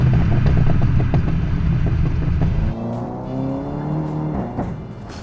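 A Seat Leon Cupra stage 2 with downpipe and decat accelerates loudly, its engine roaring with rising revs, then dropping to a lower droning tone after an upshift, heard from inside the car.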